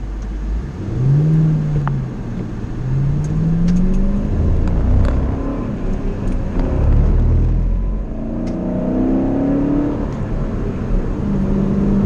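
A car pulls away from a roadside traffic stop in Nashville, its engine revving through rising gear changes at close range, with a steady road rumble and no talk.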